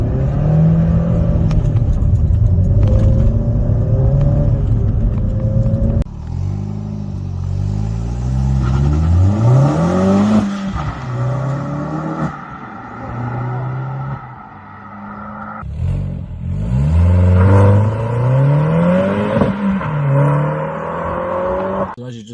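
A Vauxhall Corsa VXR engine is held high for a launch-control start, then revs climb and fall through several gear changes in loud, close surges, with a voice talking over parts of it.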